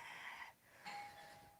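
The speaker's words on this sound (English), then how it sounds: "somebody ring the bell." A doorbell rings indoors in two soft tones, the second held as a ringing note, faint and somewhat muffled under a constant background hiss.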